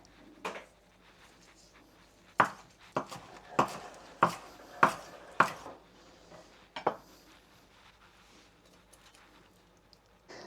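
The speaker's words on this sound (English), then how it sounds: "I will also cut up a little bit of parsley and add it there." Knife on a cutting board chopping parsley, stems included, as a cluster of about eight sharp, close chops arriving in quick bursts, with quiet gaps and a few scattered knocks before and after.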